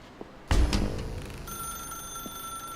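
A telephone in The Stanley Parable video game rings with a bright, steady electronic tone that sustains after a sharp onset, fairly close and alone with no talking.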